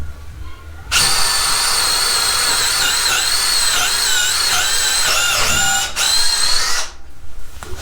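Makita 18V LXT sub-compact brushless cordless drill driving screws, a loud, steady high whine running for about six seconds with pitch wavering under load, then stopping abruptly.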